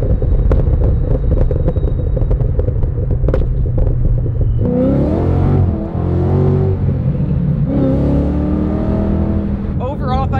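Ford Shelby Super Snake engine rumbling loud and close, then revving with crackling exhaust pops as the throttle lifts, with engine noise running throughout the clip.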